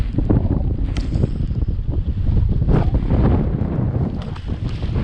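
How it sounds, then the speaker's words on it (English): Strong gusty wind buffets the microphone outdoors beside a pond at an urban drain spillway, a loud, steady roar with bursts and no speech. "I mean, these winds are ripping."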